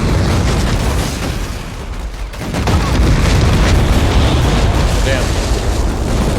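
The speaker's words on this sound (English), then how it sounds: "Barrels exploding." Barrels blowing up in the World War II strategy game Company of Heroes 3, a dense loud blast and rumble that fills the whole stretch with a brief dip midway, under a man's short exclamation.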